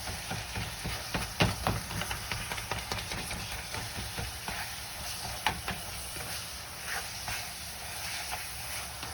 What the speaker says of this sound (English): I'm going to keep breaking this meat down because, again, I want it fine.